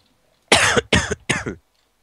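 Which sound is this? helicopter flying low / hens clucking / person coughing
person coughing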